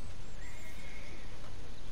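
A horse in the video game Red Dead Redemption 2 lets out a loud, sustained whinny with a faint rising-and-falling tone, heard over dense, steady outdoor noise and light hoof clatter.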